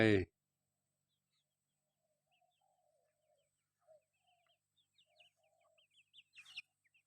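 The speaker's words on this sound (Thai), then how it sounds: "ฟังเสียงนกธรรมชาติแสนสุขใจ" Faint, distant bird calls and chirps come through sparse and scattered in a quiet outdoor setting at a temple in Chae Hom, Lampang, Thailand, growing a little busier toward the end.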